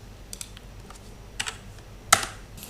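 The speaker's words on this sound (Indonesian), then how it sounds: "maka kita akan mengetik N" Keystrokes on a computer keyboard while entering values for a Simpson 1/3 numerical method calculation, a few sparse clicks followed by one sharper, louder tap, close and alone in a quiet room.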